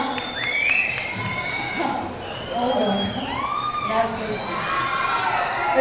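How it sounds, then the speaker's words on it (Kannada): An audience at a Kannada film release event with actor Kichcha Sudeep cheers and shouts in a steady, lively roar that swells and dips, with voices calling out over the crowd noise. "ದಯವಿಟ್ಟು ಮೊದಲು ಚಪ್ಪಾಳೆಯೊಂದಿಗೆ ಸ್ವಾಗತಿಸಿ"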